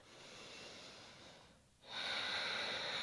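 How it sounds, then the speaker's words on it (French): Deep, steady breaths during a daily flow yoga routine: a long airy exhale, a brief pause, then a louder, rushing inhale close to the listener, with no talking. "Prenez 5 respirations."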